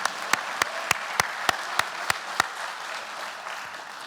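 Induction ceremony audience applauding, with a broad wash of crowd clapping punctuated by a run of sharp, evenly spaced close claps from one person that stop midway while the crowd continues.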